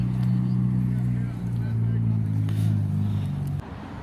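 Mitsubishi Evo rolling in at an outdoor car meet, a low rumbling engine drone close by that drops away near the end, with voices chatting in the background.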